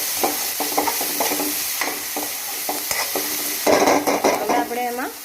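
Red chillies are stirred in hot oil in a pan while making a mixed dal, with a continuous sizzle broken by repeated spoon scrapes and clinks, growing busier near the end.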